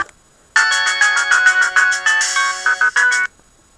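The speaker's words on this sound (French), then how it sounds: "Vous avez une dizaine de sonneries, on a mesuré cela jusqu'à 80 décibels." A Mobiho-Essentiel Le Classic Plus mobile phone ringtone, measured up to 80 decibels, chirps a rapid, repeating electronic melody, loud and close, starting and stopping abruptly.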